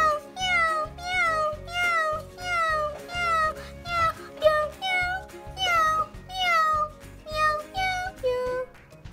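Repeated cat meows, about a dozen in a row, loud and close with rising and falling pitch over a low background murmur.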